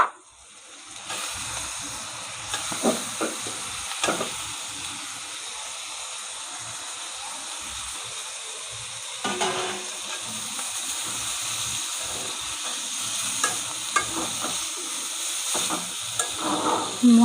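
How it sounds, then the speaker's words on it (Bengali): Pieces of taro sauté with spices in a pan for a fish curry, a steady soft sizzle with scattered scraping stirs of a spatula across the pan, and no talking. "মশলার সাথে ভালোভাবে কষিয়ে নেব।"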